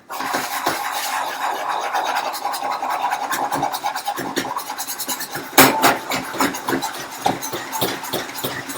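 A pan being shaken on a stovetop while an omelette cooks gives continuous scraping and rattling, rough and close, with a sharper metallic clank about halfway through.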